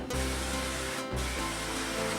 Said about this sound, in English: the next trick is to use some spray olive oil